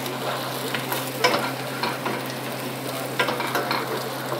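An egg is whisked and stirred in a hot frying pan, steady sizzling under a few soft scraping clicks, close and continuous with no talk.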